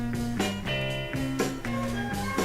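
Upbeat, funky electronic background music from the video game Car Chase Simulator, with a bouncing bass line and punchy synth chords, plays steadily, loud and clear with no voices.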